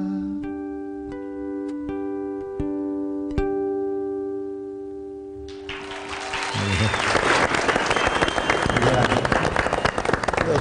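Audience applause breaks out at the close of a live song on a television program, a dense burst of clapping that swells and holds loudly after the last sustained notes fade.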